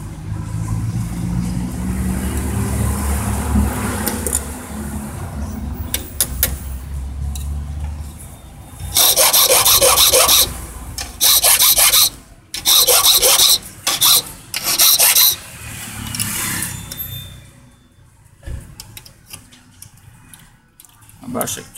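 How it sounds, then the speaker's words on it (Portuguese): A metal key blank for a tubular lock is filed by hand in bursts of loud, harsh rasping strokes, mixed with clicks and handling noise, while a person speaks. "tem que limar mais"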